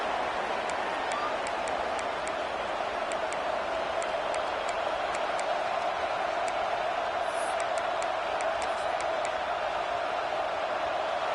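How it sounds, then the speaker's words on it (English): A stadium crowd roars in EA Sports College Football 26 during a college game between the Auburn Tigers and SMU, a steady, loud wall of cheering with scattered claps and no commentary over it. "This crowd ready to make its presence known."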